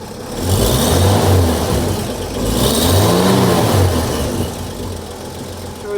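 A 1952 Chevrolet pickup's engine runs loud and close through its split exhaust system, revving up twice in rising and falling swells before settling toward a rumbling idle.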